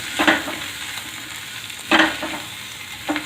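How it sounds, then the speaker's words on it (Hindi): Spices such as fennel seeds and turmeric stirred in a pan for green chili pickle, three scraping stir strokes over a low steady sizzle, close and moderately loud with no talking. "अब इसे हम चला देते हैं। सौंफ डाल देते हैं, हल्दी"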